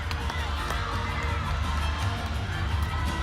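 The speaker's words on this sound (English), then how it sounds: "the crowds here are incredible. They're loud. They're excited." Loud, continuous crowd cheering and shouting fills a men's NCAA gymnastics meet between William & Mary and Simpson, a dense roar with bursts of whoops and yells throughout.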